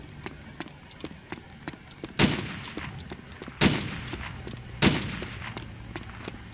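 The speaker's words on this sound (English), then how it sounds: "hear all the shooting. That was me shooting." Gunfire in the World War II-era video game Arma 2 during an airport assault: a string of light rapid shots broken by three louder, booming reports with ringing tails.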